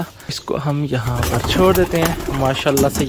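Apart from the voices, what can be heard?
pigeons cooing in a cage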